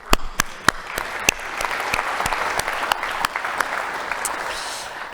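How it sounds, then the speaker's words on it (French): An audience applauds at the opening session of an engineering day conference, dense sustained clapping from many hands with a few sharp louder claps standing out near the start, and no voices over it. "on peut vraiment les applaudir"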